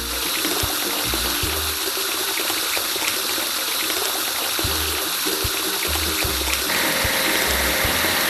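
A steady, loud gush of sprayed water washes a truck in a video game, running continuously with faint tonal game sounds and light thumps underneath.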